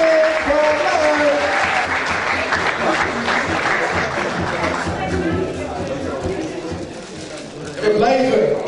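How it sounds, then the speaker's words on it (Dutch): A crowd applauds at a celebration honouring Olympic athletes from the 2012 Games, steady loud clapping that runs for several seconds with chatter underneath, fading slightly before a fresh swell near the end. "Hier applaus voor Patrick van Leijden."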